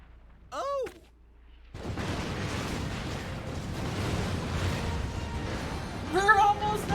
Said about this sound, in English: We're getting out of explosions!